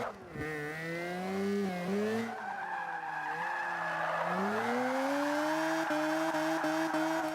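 A Mazda RX3 drift build in Forza 5 slides through corners, its rotary engine holding a steady high whine with shifting pitch while tires squeal continuously and loudly, no voices.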